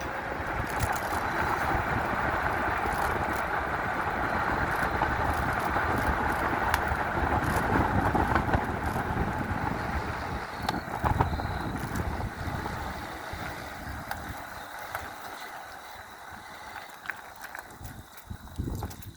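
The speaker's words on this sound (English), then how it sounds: "We're going to do a brake check." A motorcycle at about 28 mph in fourth gear braking to a stop, a loud wind-buffeted engine and road roar that gradually drops and thins as the bike slows, without any talking.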